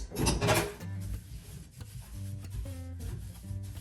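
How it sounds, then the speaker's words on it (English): Close scrubbing of the bottom of a stainless steel sink, with brisk rasping rubs and a few squeaky scrapes while a faint tonal hum runs underneath and nobody talks. "Also the bottom, scrub that."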